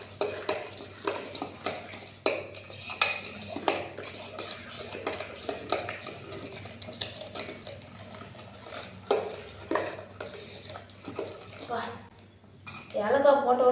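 A spoon clinks and scrapes against a metal pan while ground cardamom is mixed into an egg candy mixture, irregular close taps and stirring strokes over faint background hum.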